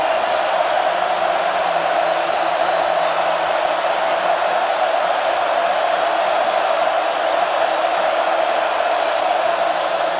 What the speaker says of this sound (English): But listen to this crowd on a 3rd and long.